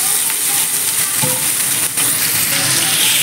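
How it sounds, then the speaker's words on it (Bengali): Sliced pointed gourd and potato frying in oil in a wok over browned onions, a loud, continuous close sizzle with small crackles and a few clinks of stirring. "আর এই কড়াইয়ের মধ্যে আমি এখন পটল আলুটা ভেজে নেব"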